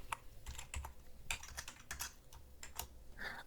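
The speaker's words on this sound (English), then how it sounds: "Now here I will just type my password." Keystrokes on a computer keyboard entering a password for a crypto wallet unlock, a quick run of close, crisp clicks in uneven bursts with no talking.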